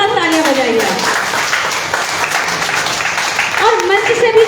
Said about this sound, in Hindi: बार जोरदार तालियां बजाइए